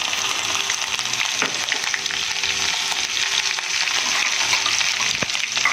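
Ginger and chopped chillies sizzle in hot oil in a pan for dahi bhindi, a dense continuous crackle with a few stirring scrapes, close and loud, with no one speaking.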